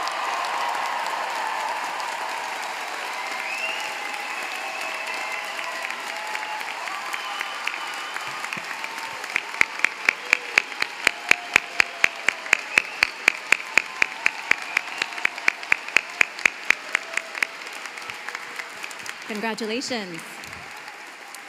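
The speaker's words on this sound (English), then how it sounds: "Let's have one more round of applause for the JD class of 2024." Applause at a law school commencement for the graduating JD class of 2024 rises as a broad crowd wash, with a patch of crisp, rhythmic individual claps standing out, while voices speak over it.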